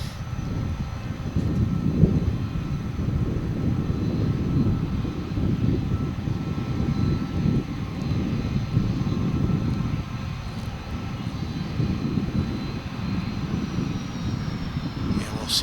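UPS cargo plane, flight 1349 from Tampa, Florida, at Dallas/Fort Worth airport after dark, producing a steady loud engine roar that persists throughout with a broadband rumble.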